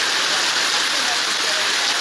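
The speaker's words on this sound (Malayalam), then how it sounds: "5 ദിവസത്തെ ശക്തമായ വേനൽ മഴ" A heavy summer downpour roars in a dense, unbroken hiss, loud and close, with no gaps or other sounds.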